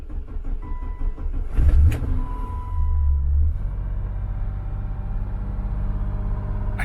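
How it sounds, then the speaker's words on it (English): A 1989 BMW 325i E30 that has sat unused for 74 days cranks briefly and catches, then settles into a steady low idle rumble, close by with no voices. "I'm gonna try to start my vehicle, my 1989 BMW 325i, also known as the E30."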